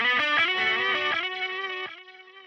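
Electric guitar played through a high-gain distortion pedal, a short run of sustained, saturated chords and notes that ring out loud and alone before decaying over the last half-second.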